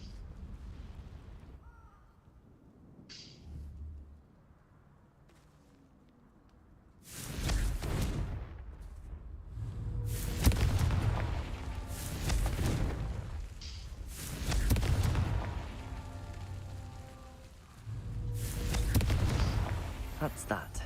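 Confringo fire spells blasting in the video game Hogwarts Legacy, heard as a series of about five loud, booming bursts spaced a few seconds apart after a quieter opening stretch.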